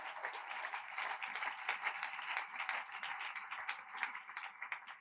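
A church congregation applauds the Lord at an evening service, sustained dense clapping from many people with occasional cheers, loud and continuous.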